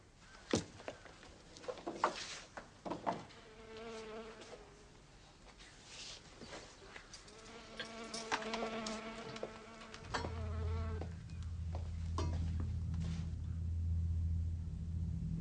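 Insects buzzing in a dramatic film scene: thin, wavering drones rise and fall near and far through the middle section, with scattered knocks and a low rumble growing louder toward the end.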